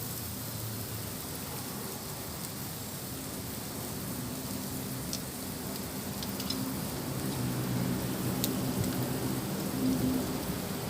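Thai moo kratha pork barbecue grilling on a rooftop, giving a steady, dense sizzling hiss that swells slightly louder in the second half, with no talking.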